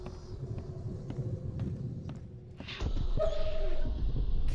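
A puppy whimpers in The Sinking City video game, small whines and yips over a steady ambient rumble that grows louder partway through.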